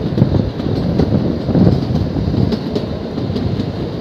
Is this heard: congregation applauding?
no